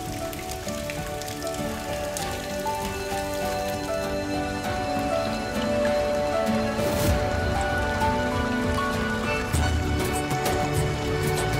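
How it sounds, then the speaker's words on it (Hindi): Rain falling in a steady, dense patter on surfaces, continuous and fairly loud throughout with no voices. "तुमसे कितनी बार कहा है कि बारिश में मत भीगा करो, बीमार पड़ जाओगी चांदनी।"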